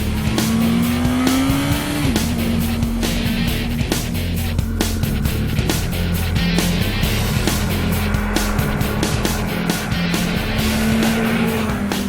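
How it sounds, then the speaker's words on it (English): A car engine pulls up through the revs and keeps droning loudly as the vehicle accelerates, with a steady rumble underneath. "we're going to accelerate away"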